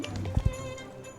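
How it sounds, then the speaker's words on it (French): Horse hooves in the Star Stable video game land as two soft, quick thuds close together over steady background game music. "on se retrouve toujours avec notre cheval Vivien"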